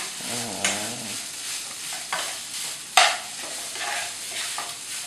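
American fried rice is stir-fried in a pan, its scraping spatula strokes and a bright clank against the metal riding over a continuous sizzle, with a brief voice-like tone at the start.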